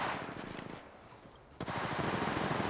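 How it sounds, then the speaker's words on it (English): Rapid automatic gunfire in Apex Legends Mobile, a steady rattling burst that pauses briefly and then resumes with a louder, close stream of shots. "A second squad is firing at us."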